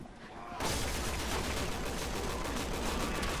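Video game gunfire in Resident Evil 6 breaks out after a quieter opening and becomes a loud, dense volley of rapid shots that carries on to the end.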